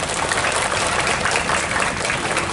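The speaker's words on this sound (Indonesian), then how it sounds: "Tepuk tangan dulu untuk Espansa." School audience of students applauding for Espansa during an introduction event, a dense, even wash of clapping throughout with no voices standing out.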